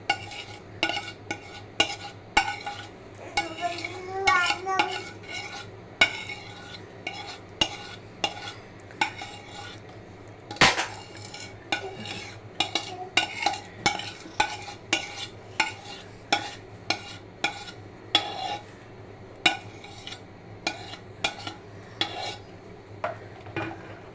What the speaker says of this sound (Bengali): ডিমের সাথে মিশ্রণটা মিশিয়ে নেব।